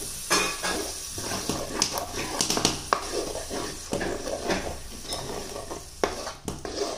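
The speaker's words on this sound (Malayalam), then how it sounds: "ഇതിപ്പോൾ ഇതൊന്നും കൂടി നന്നായി ഒന്ന് മിക്സ് ചെയ്യുകയാണ്." A spoon stirs fish curry with ground coconut and chili paste in a pan, making a run of scraping and knocking sounds with faint sizzling beneath, all close by and fairly quiet.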